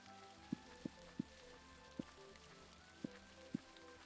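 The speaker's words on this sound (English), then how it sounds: "Oh, it's raining inside the barn." Rain falling inside a barn in the Minetest video game, heard as a soft steady patter with a few distinct louder drop hits spaced irregularly, fairly quiet and alone.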